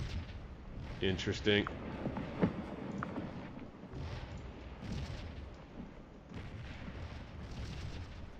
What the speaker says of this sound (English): cannon over here.